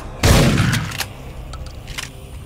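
A loud grenade blast bursts out near the start of a Dead Effect game scene, its deep boom trailing off over about a second, followed by quieter scattered gunfire-like cracks.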